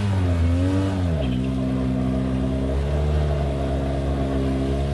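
A Polaris 850 engine revs loudly and close, its pitch dropping sharply after a second and then holding a steady mid-range drone, set against icy water, with no talking.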